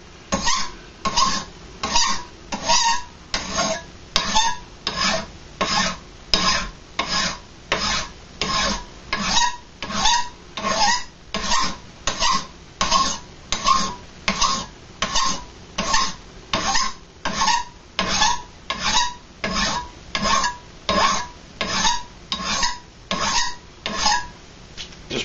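Hand file rasping across a forged steel knife blade on a bench, steady back-and-forth strokes in an even rhythm of about one per second, close and clear with no talking.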